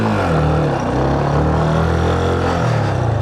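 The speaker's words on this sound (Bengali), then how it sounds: "একজস্টের সাউন্ডটা কেমন দেখেন তো" A Yamaha FZ25 motorcycle's exhaust idles and revs up close, a loud, steady low rumble with a rising engine note, with no talking.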